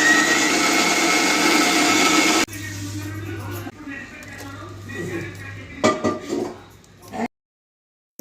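A kitchen grinder whirs loudly for a couple of seconds, blending onion and green chili into paste, then cuts off, leaving quieter handling noises while someone talks.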